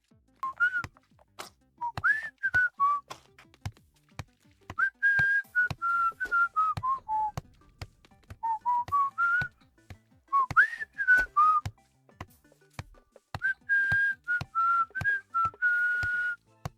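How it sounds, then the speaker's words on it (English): A person whistles a wandering melodic tune in short repeated phrases separated by brief pauses, clear and close, with sharp clicks and knocks scattered between the notes. "Can you hear me whistling?"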